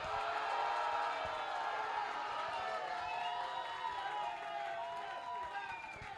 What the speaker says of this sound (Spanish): Aplausos para Catherine y Scarlett.